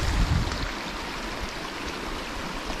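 Foster Brook in Fundy National Park rushes over rocks at a backcountry trail crossing, a continuous close-up wash of flowing water with no voices.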